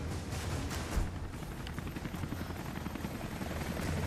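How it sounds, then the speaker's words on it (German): A helicopter in Rise of the Tomb Raider sends out a steady, rumbling whir with a faint thump of rotor beats, close and constant, and a few low booms mixed in. "Ein Helikopter?"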